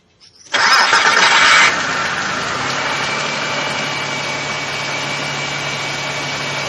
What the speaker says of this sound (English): Now I want to start the engine